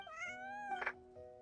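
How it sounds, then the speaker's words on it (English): A cat in the video game Genshin Impact gives a single drawn-out, clear meow that rises and then trails off, close and alone. "She's taking the kitty too!"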